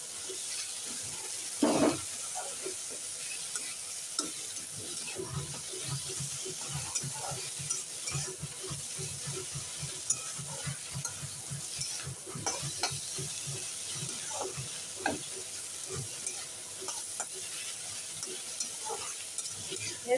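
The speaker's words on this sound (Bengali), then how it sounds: "ঠিক আছে, মশলাটা একটু কষে নিই," Spice paste of onion and ginger frying in oil with panch phoron, bay leaf, whole garam masala and cumin, stirred steadily; a continuous close sizzle runs throughout, broken by repeated scraping and stirring strokes, with no voices.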